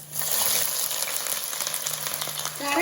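Ginger pieces frying in hot oil for a dates pickle give a dense, steady sizzle and crackle that holds evenly for under three seconds, close and fairly loud, with no talking.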